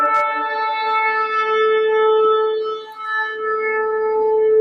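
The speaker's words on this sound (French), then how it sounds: "à nos yeux, c'est un son de trompette, c'est du chauffard, exactement" A sustained, steady horn-like blast of a shofar, a ram's horn trumpet, holding one bright, buzzy tone with rich harmonics and slight wavering, loud and alone for several seconds.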